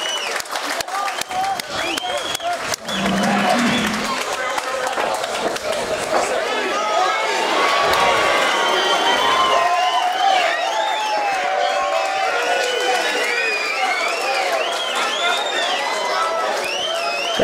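A packed crowd at an outdoor MMA event cheers and claps in a continuous roar, with shouts and whistles rising and falling and voices chattering throughout.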